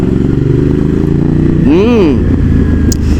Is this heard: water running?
no